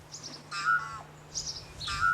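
Mynah bird, a non-native species, calling among flax flowers in New Zealand: a few short bright chirps and whistled notes in two bursts, close and clear over a faint steady low hum.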